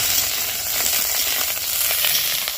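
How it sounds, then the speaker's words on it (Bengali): Cauliflower pieces frying in hot oil give a loud, continuous, close sizzle that crackles steadily throughout, with no voices over it. "এবার আমি এই তেলের মধ্যে ফুলকপিটা ভালো করে ভেজে নেব"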